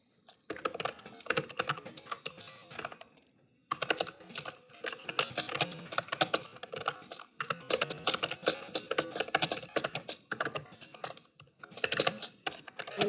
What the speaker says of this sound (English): So I am going to do touch typing.